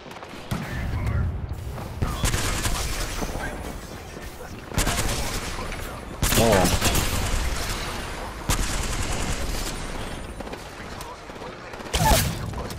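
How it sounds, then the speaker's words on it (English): Gunfire from a team shooting in the video game Apex Legends, with bursts and volleys recurring across the stretch under near continuous talk. "Team behind me shooting"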